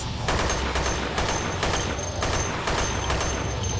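Rapid bursts of gunfire from a gun in the VR shooter Dead Effect 2, loud and close, firing in a steady repeating rhythm of several volleys with no talking.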